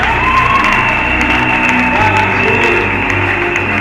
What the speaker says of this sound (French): Est-ce qu'on peut donner au Seigneur une bonne acclamation